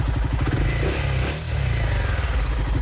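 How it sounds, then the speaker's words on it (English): A Royal Enfield motorcycle with a cheap universal aftermarket exhaust idles close by in a rapid, lumpy thump. The revs briefly swell in a short throttle blip, then settle back to the same steady beat. "All right, so that's the new exhaust."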